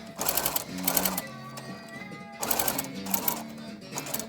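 A sewing machine topstitches a fabric mask in two short bursts of fast, close mechanical stitching, separated by a quieter pause.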